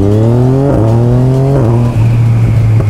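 A loud, close motorcycle engine revs up and down in steady surges, its pitch climbing and dropping a few times with no voices.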